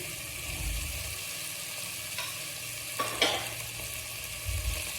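Carrots and beans sautéing in a pan for an Indian dish, a soft steady sizzle with a couple of brief stirring scrapes and clinks, close and quiet, no voices.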